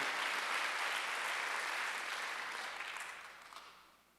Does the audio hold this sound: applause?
yes